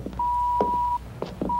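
A steady electronic phone tone beeps in long sustained bursts with short gaps, heard over a low background hum on a science-fiction film soundtrack.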